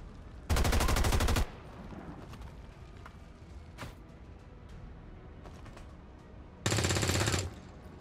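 Video-game gunfire from XCOM 2: War of the Chosen comes as two loud, rapid automatic bursts about six seconds apart, separated by quieter game ambience.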